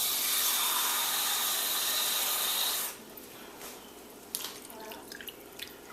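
Water is poured into a pot of sugar syrup as a steady rushing stream that stops abruptly, followed by a few faint drips and small clinks nearby.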